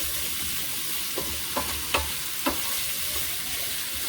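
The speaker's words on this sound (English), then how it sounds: "give it a good stir so that spices and everything gets mixed pretty well" Okra with spices is stirred in a frying pan over a steady close sizzle, with four or five distinct scraping stirs spaced about half a second apart and no voices.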